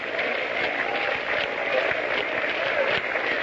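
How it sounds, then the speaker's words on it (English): A 1934 baseball crowd at Navin Field claps half-heartedly, a dense, muffled, steady wash of many hands heard through narrow, lo-fi old radio sound with no individual claps standing out. "The crowd is beginning a sort of a half-hearted hand clapping."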